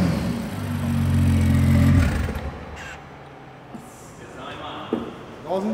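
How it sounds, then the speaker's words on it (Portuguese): BMW 435 turbo engine and exhaust with a straight pipe, loud low revving drone for the first two seconds, then fading to quieter idle rumble with small clatters and faint whistle, with people talking. "Olha o barulho da turbina."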